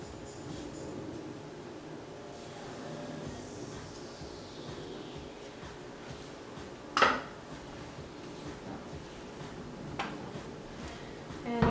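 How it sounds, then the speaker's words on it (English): Cake dough for an apple cranberry cake being mixed in a bowl: steady scraping and clinking of a utensil against the bowl, with one sharper knock partway through, close by and with no talking. "you just mix all the ingredients really good"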